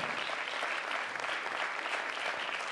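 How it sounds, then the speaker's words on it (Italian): An audience at a small music festival applauds, a dense, even wash of clapping that holds steady throughout. "Direi che un applauso ci sta tutto."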